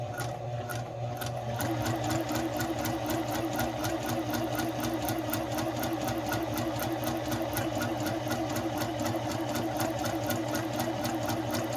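Sewing machine stitching over a fabric sampler, starting after a brief pause and then running as a fast, even mechanical rattle with a regular needle beat, close and steady, no talk.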